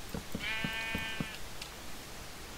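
A sheep in Minecraft bleats once in a wavering cry over a few soft rhythmic thumps, fairly quiet with game background ambience and no talking.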